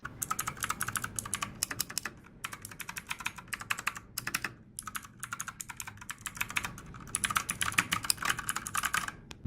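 Brisk, steady typing on a Redragon Kala K557 mechanical keyboard with clicky Otemu Blue switches, a dense run of crisp keystrokes with brief pauses between bursts.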